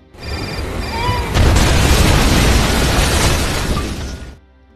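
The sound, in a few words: house exploding from a planted bomb in a film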